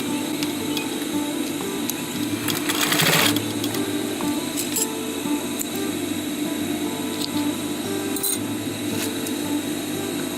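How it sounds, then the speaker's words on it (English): A sewing machine stitches a surgical mask, its fast needle rattle running continuously and close for the whole stretch, with a brief sharper burst of noise early on and light clicks scattered through. "let's place it under a machine and sew it"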